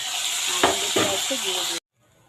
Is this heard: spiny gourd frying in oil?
yes